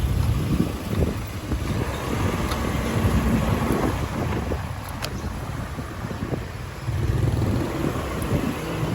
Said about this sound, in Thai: ที่นี่มีลมนะลมแรงเลยอากาศเย็นๆจะเริ่มเข้ายัง